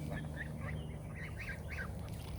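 Several ducks quack in a quick series of soft calls over a low background rumble, fairly close by.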